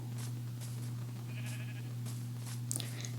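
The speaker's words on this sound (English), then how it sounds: "Yes, I know that's a sheep" Sheep in a Minecraft-style video game bleat in several short, repeated calls over a steady low electronic hum, fairly quiet with no talking.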